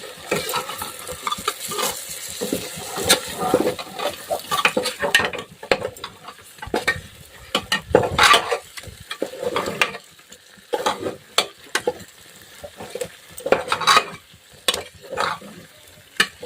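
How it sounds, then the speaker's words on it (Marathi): A spoon repeatedly scrapes and stirs eggplant curry in a pot, producing close, uneven bursts of scraping and soft sizzling with short pauses between strokes. "अशा प्रकारे छान मिक्स करून घेऊ"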